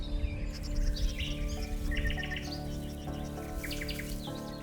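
Birds sing in a spring forest, several calling in repeated chirping phrases over a steady background hum, with faint insect sounds mixed in, moderately distant and with no voices.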